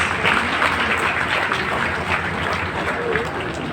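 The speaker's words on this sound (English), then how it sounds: "Please, let's give them a round of applause" Audience applause in an auditorium at a government department's 50th anniversary ceremony, welcoming a senator and House members; dense, steady clapping from a large crowd holds level for the whole stretch with a faint murmur beneath.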